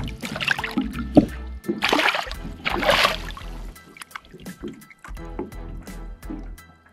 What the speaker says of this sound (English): I'm gonna get this fish back in the water right away here.